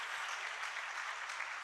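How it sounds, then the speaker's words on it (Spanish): Crowd applause from a church congregation, steady dense clapping filling the space without pause, moderately distant and even throughout. "Denle un aplauso al Rey bendito"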